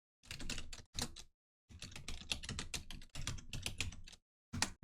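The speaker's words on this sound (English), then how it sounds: "So what I'm going to do is just type in the folder path." Computer keyboard typed on up close while a folder path is entered, in quick bursts of clattering keystrokes separated by short pauses, with no talking.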